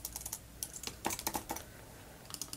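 Rapid keystrokes clatter on a computer keyboard in short irregular bursts, close and fairly quiet, with brief pauses between runs of typing and no voices.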